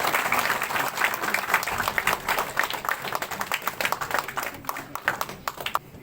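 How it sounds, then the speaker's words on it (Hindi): Audience applause at a talent award ceremony held in a hotel, dense sustained clapping from a crowd that thins toward the end, with no voices. "जोरदार तालियों से तो इनको आपको इनकी सराहना करनी चाहिए। तालियां कम पड़ रही हैं"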